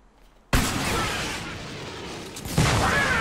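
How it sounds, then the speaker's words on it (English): A pumpkin launcher explosion in the Fortnite video game gives a sudden loud boom. A long rumbling, crackling roar follows it, and then a second burst of blast noise. "I didn't know the explosion was that big. From a pumpkin launcher."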